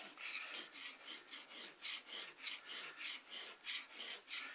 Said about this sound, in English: a little bit of WD-40, and I'll just do that to sharpen it.